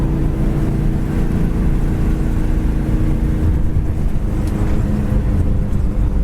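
A 1972 Buick Skylark GS clone cruises down the road with a loud, steady drone of engine and road noise that stays constant throughout, with no talking.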